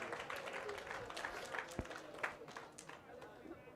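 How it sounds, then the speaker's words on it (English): Audience applause for the Rada team at a recovery and investment forum, steady, fairly faint crowd clapping throughout with a few sharper claps standing out, distant voices mixed in. "Round of applause for Rada, please"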